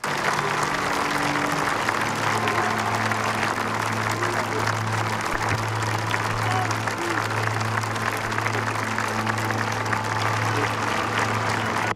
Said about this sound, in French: la foule, massée sur le parvis, a applaudi l'entrée du corps dans l'église